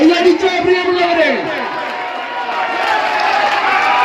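A large crowd at a tug-of-war match in Manalvayal, Wayanad, makes a dense, steady roar of cheering and clapping, with a voice talking loudly over it throughout.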